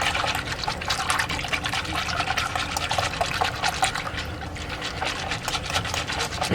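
Half and half pours into whisked egg yolks for butterscotch pudding, a soft continuous trickle and splash of liquid heard close and fairly quiet.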